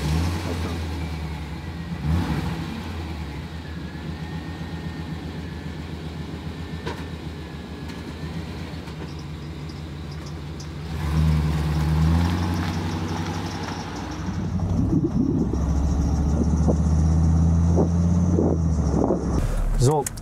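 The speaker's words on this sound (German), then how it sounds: "der Sound vom Motor, vom Lüfter und vor allem dieses Schaltgefühl" A 1993 Chevy Van G20 Starcraft engine drones steadily with a whirring fan underneath, the pitch rising and shifting as it changes gear while driving; close and continuous.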